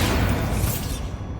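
A Bombarda spell explosion in the game Hogwarts Legacy lands as a heavy boom with a shattering, crumbling burst that trails off within a second.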